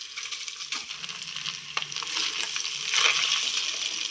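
Garlic and chili crackle in hot oil with a steady broadband sizzle and scattered pops and clinks, moderately loud and continuous, growing slightly fuller toward the end, no voices.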